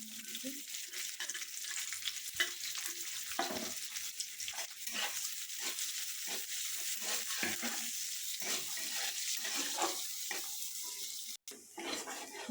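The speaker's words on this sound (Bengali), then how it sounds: "দেখো আমি পেঁয়াজটা ভাজা আমার হয়ে গেল" Onions sizzle in hot oil with nigella seeds, giving a steady bright hiss broken by scraping and clinking as they are stirred, moderately close and without speech.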